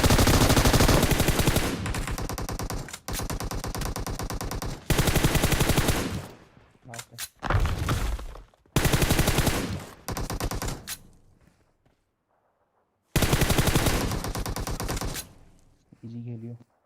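Bursts of automatic gunfire in the PUBG Mobile battle royale game, loud and close, coming in several dense rapid-fire volleys with short gaps and a pause near the end before a final burst.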